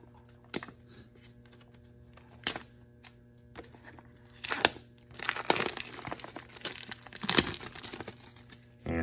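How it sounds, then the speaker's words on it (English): Fingers tear heat-shrink plastic wrap off a watch box in sharp, crinkly bursts, a few isolated rips followed by a denser run of crackling, close and fairly quiet. "Looks like there's already a small tear in the heat shrink here. So let's go and rip it open with our fingers"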